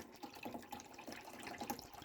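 Water is poured into the reservoir of a Keurig Duo coffee maker during descaling, a faint, short trickling and splashing of liquid heard alone in a quiet room.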